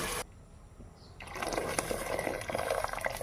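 Water pours into a cooking pot while chicken soup is being made: a quiet pause, then a steady, fairly close gushing and splashing stream that continues to the end.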